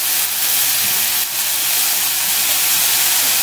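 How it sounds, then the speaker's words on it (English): A small food processor steadily chopping meat filling into a paste, a constant loud whirring hiss with no break and no talking. "I am going to put this in my little food processor and I am going to chop it down into a paste"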